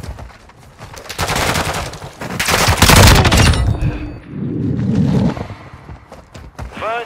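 Heavy automatic gunfire rattles in loud, dense bursts during a video game firefight, rising to a peak mid-clip, then easing into scattered shots and thumps.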